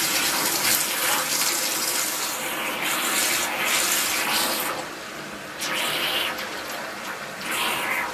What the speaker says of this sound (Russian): теперь вот этот поток горячей воды направляю в каждое отверстие слива